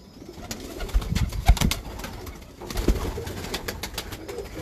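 Breeder pigeons coo in a loft, soft throaty calls rising in two bursts with wing flutters and small knocks nearby, no talking.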